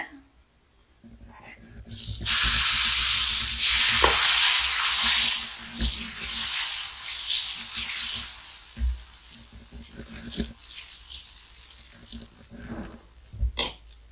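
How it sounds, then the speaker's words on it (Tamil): Curry leaf dosa batter is poured onto a hot pan and fries with a loud, close hiss that swells for a few seconds, then settles into a softer sizzle with occasional scrapes and clicks. "நம்ம தோசை ஊத்திக்கலாம்."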